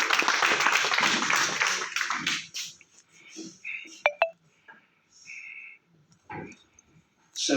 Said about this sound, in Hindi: एक उभरते हुए बच्चे की हिम्मत अफजाई की ये कैसी तालियां लगती हैं